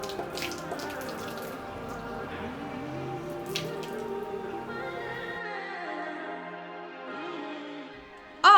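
Boiling water poured from a kettle onto hair, a steady close trickling and splashing stream lasting several seconds, thinning toward the end before a brief sharp knock.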